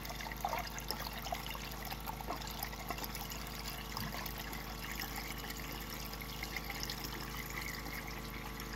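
Water trickles and gurgles through a gold sluice during a cleanup on a placer claim, making a steady, moderately faint flow with a constant low hum under it, and no voices.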